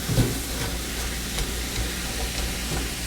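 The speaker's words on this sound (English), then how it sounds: "We'll let this go for another few minutes until the sausage is browned." Sausage browning in a pan with onions and peppers for a breakfast casserole, a steady close sizzle and crackle that holds level throughout with faint scraping stirs.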